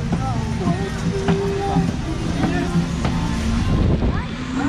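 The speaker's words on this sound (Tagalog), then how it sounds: "Oh, lakas ang hangin." Strong wind buffets outdoors in a low, steady roar across the microphone, with people talking over it.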